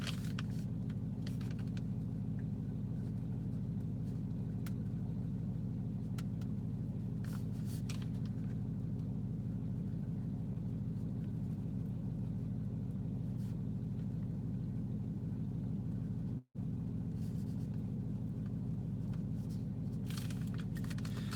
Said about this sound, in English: we got the cold start of the Hellcat